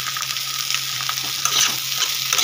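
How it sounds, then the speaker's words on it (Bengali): Chicken Maggi noodles frying and being stirred in a pan over a gas flame, a steady close sizzle with scraping stir strokes and no voices. "এটা আমি একটু ভাজা ভাজা করে নেব"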